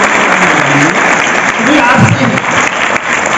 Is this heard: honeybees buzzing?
no